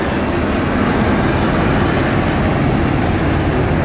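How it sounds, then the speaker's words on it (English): A noisy helicopter flies overhead near a harbor pier, its loud, dense engine and rotor roar filling the air continuously and close. "Noisy helicopter."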